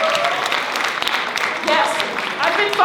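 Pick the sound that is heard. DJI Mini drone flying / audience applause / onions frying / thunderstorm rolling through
audience applause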